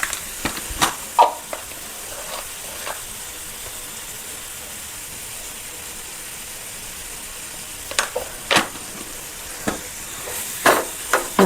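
Vegetable fried rice stirred in a pan, a soft steady sizzle with scattered scraping clinks of the spatula, clustered at the start and near the end, close and fairly quiet.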